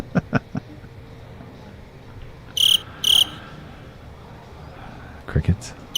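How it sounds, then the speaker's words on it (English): A cricket chirp sound effect plays during a pool match, two short bright trills over a low hum with faint tapping around them. "Crickets."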